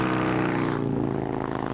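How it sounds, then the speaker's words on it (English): A motorcycle passing on a mountain highway, its engine note loud and close with a rising then falling whine as it goes by. "There goes a motorcycle."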